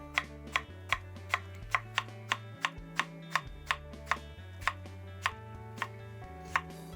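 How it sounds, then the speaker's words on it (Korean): A knife thinly slicing an apple on a cutting board: crisp, evenly spaced chopping knocks, around fifteen in seven seconds, close and clear, with a faint tonal background hum and no talking. "이렇게 해서 이제 얇게 썰어주세요."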